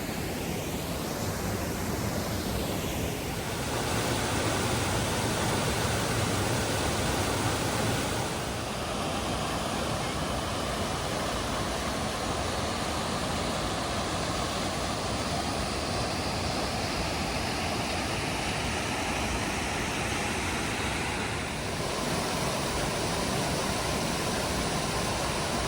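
A waterfall in the Lake District roars heard up close as a loud, constant broadband rush that runs unbroken for the whole stretch, with only slight shifts in level.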